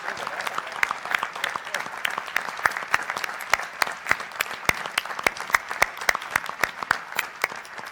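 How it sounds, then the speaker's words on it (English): A governors' meeting audience gives a round of applause for the National Guard adjutants general, with a steady bed of clapping punctuated by sharp, close, individual hand claps standing out throughout. "let's give our tags a great round of applause"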